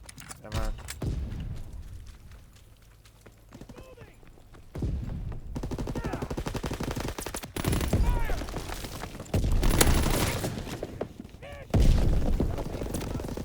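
Call of Duty: WWII multiplayer gunfire: sharp bursts of rifle and automatic shots in irregular clusters alongside game effects, with a player talking over the action.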